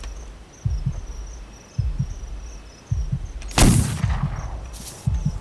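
A single sharp gunshot cracks loudly near the middle of a jungle horror scene in The Mound: Omen, over steady cricket-like insect chirping and faint low thumps of footsteps.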